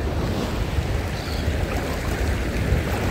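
Sea water rolls and washes steadily at Odesa beach, a broad continuous surf hiss mixed with wind on the microphone, unbroken and with no voices.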